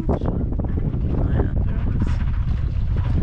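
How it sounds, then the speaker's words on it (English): A fishing boat engine drones steadily at a distance, heard from a sailboat, mixed with wind buffeting the microphone and faint water noise. "I can hear a fishing boat."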